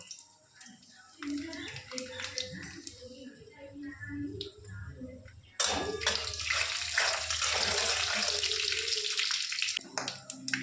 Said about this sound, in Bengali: আমি নিয়েছি শুকনো লঙ্কা আর পাঁচফোড়নের তেলের উপরে দিয়ে দেবো